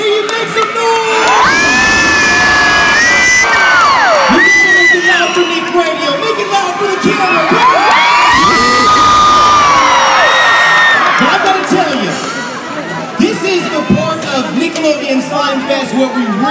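A large, loud crowd at Nickelodeon Slimefest in Chicago cheers, whoops and screams continuously, with high shrill shouts rising and falling throughout.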